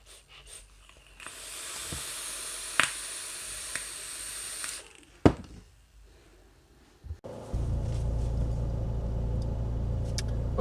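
Inside a car, a steady air-conditioning hiss fills the cabin, broken by handling clicks and bumps, then a louder, deeper fan roar takes over for the last few seconds.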